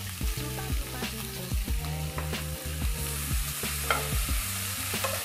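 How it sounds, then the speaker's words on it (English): Vegetables sizzle and crackle as they are stir-fried in a hot pan while a utensil scrapes and knocks in a quick, irregular rhythm of repeated stirring strokes. "So you're just gonna keep stir frying it"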